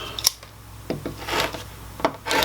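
Cork pieces cut in half for homemade spool clamps, several short scraping and snipping sounds close by, irregular and fairly quiet, with soft rustling in between and no speech.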